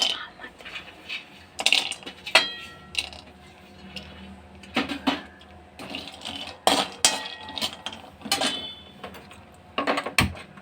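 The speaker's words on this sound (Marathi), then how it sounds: "आता आपण त्याच तेलामध्ये बदाम झाल्यानंतर काजू भाजून घेऊया." Cashews are stirred in oil over medium heat in the same pan just used for almonds, a spoon scraping and clinking against the metal in irregular, close taps and knocks, with a voice speaking faintly at times.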